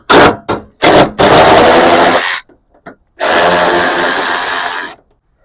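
A power tool gun driving bolts on a cheap Mustang during headlight work, with several short whirring bursts followed by two long sustained runs, loud and close, separated by silent pauses and no talk.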